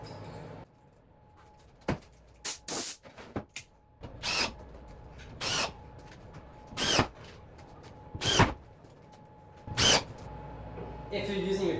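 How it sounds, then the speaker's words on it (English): A power drill fitted with a driver bit drives screws into sheet metal on a CNC cutting table, giving several short, sharp whirring bursts with pauses between them while a person talks. "we're going to switch to the driver bit and drill in a screw in each"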